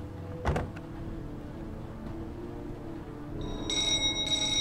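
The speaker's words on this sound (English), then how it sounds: "Who's ringing my doorbell?" In the video game Heavy Rain, a doorbell rings with a bright electronic two-part chime near the end, after a soft knock-like thud and quiet ambience.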